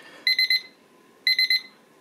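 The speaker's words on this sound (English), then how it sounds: "you can hear that the timer has now gone off" An Umedo digital kitchen timer alarm goes off, giving two bursts of four rapid high electronic beeps each, loud and close, separated by a short pause.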